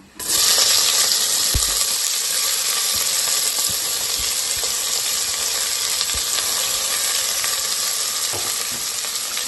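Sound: onions sautéing in hot oil

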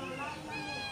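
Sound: cat meowing

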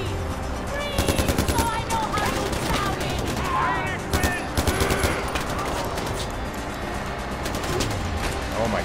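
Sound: gunfire in the video game Far Cry 4

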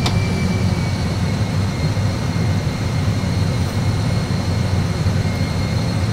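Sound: aircraft engines at climb thrust

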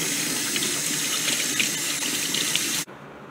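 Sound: water running while cleaning and filling a tarantula's water dish

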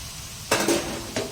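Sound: gently mixing crumbled sev khamani mixture in a pan

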